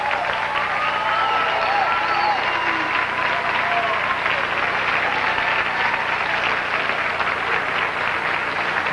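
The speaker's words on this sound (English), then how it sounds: "would you please give a very nice, loud, and raucous round of applause" A pageant audience at Miss Illinois claps in sustained, dense applause for nearly nine seconds, with faint cheers and voices mixed into the steady clapping.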